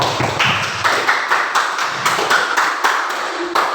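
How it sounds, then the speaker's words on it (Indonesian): Applause from a classroom of students for three classmates, a steady stretch of clapping with sharp irregular claps running throughout, fairly close and loud with no voices over it. "Berikan aplaus untuk ketiga-tiganya."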